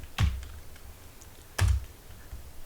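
A computer keyboard, two distinct key clicks about a second and a half apart, close and fairly crisp against a faint room hiss, with no speech.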